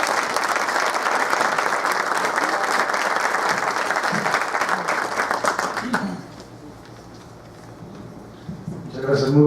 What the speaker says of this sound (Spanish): Yo les pido que recibamos con un fuerte aplauso a Santiago Nieto.